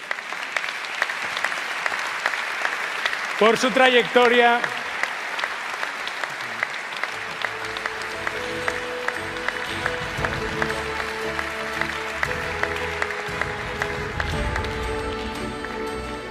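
Sustained, loud applause from a large audience at a national canoeing awards gala, steady clapping that carries on for over fifteen seconds, with a brief spoken phrase near the start.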